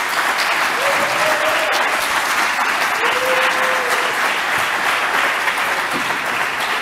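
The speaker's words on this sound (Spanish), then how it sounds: "Un aplauso para Fran, joder, que está aquí." An audience at a Spanish-language tech talk bursts into sustained, even applause, loud and close, with a couple of faint whistles or cheers rising through the clapping.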